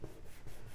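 A brief, soft rubbing stroke as a folded paper card is burnished flat, one short scraping pass at close range with no speech.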